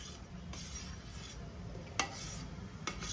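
Hot khoa gulab jamun stirred into sugar syrup, a soft steady swishing with a few sharp clinks of a spoon against the pan.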